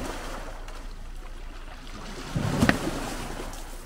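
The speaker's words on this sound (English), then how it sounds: "Waves washing on the rocks." Sea waves wash against the rocks on the coast at Piran, Slovenia: a steady close surf roar with one louder splash rising midway, no voices.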